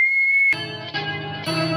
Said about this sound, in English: I'm learning to whistle.